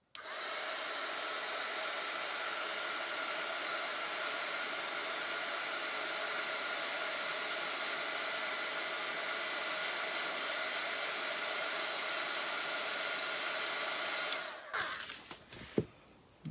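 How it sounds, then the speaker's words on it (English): A heat gun blows steadily on a painted primitive wood star, a loud continuous airy roar with a hum that holds for about fourteen seconds, then cuts off into a few faint knocks and handling sounds. "I'm going to hit that with my heat gun"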